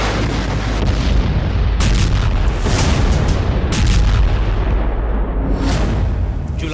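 Bombing-attack explosions boom loudly one after another, heavy blasts with rumbling tails and crackling debris filling the whole stretch, with no voices.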